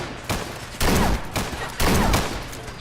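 Gunfire in the Fallout 4 video game: repeated bursts of shots, two loud volleys standing out from a steady crackle of fire, with no talk.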